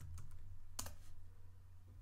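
Keyboard typing at a computer, a few light scattered keystrokes with a small cluster of clicks, heard over a low steady hum, with no speech.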